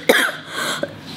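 A single close, sharp cough from someone with a cold, followed by a softer throaty second cough, brief and loud with no talk.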